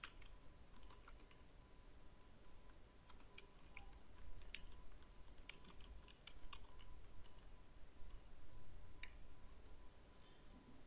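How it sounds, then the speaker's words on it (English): Typing on a keyboard or phone, faint scattered key clicks in irregular bursts over a steady background hum, with no one talking. "Now I will type text."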